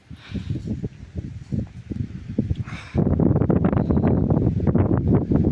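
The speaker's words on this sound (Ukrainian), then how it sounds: "Тут на березі сильний вітер" Strong wind on a shore buffets the microphone in rough, rumbling gusts that grow louder and more constant partway through.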